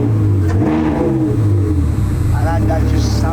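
Ferrari F360 with a 3.6-litre V8 and a wider performance muffler system, revving loudly up close through the exhaust with a rising, musical engine tone that stays strong throughout, with someone talking.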